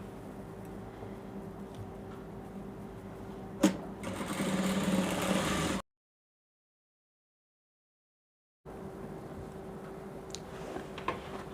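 Sewing machine stitching the inseam of a reversible bubu jumpsuit, a steady close motor whir that runs in bursts, louder for a couple of seconds, then stops briefly before resuming.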